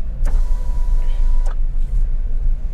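Power windows on a car are lowered while driving in second gear: two short whirring motor runs, the first lasting over a second, heard over a steady low engine and road rumble with no talk.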